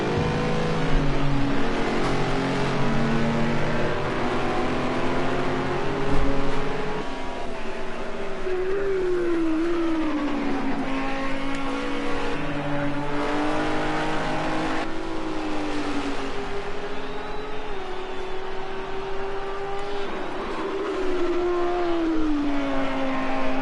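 GT3 and GT4 race cars running together at Silverstone in the British GT Championship, a loud continuous engine note that rises and falls through gear changes, with other cars blending in behind.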